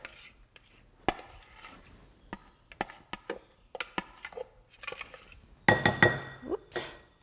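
Vegan lemon blueberry cheesecake filling being scraped out of a container, heard as scattered utensil clinks and scrapes against the dish, with a louder clatter near the end, no talking.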